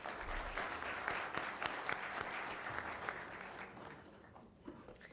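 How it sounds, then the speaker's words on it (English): Audience applause fills a county commission meeting, steady close clapping from many hands that holds for several seconds before thinning out near the end. "So if we could give them all a round of applause"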